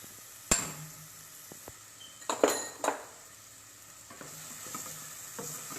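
Capsicum sautés in a pan with a soft, low sizzle, broken by several sharp clinks and scrapes of a utensil against the pan and quieter stirring taps toward the end; no one speaks.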